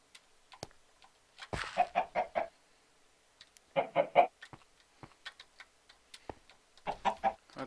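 Chickens on a manual chicken farm in a video game cluck in short rhythmic bursts of three or four notes, separated by quiet gaps and a few small clicks, clear and near.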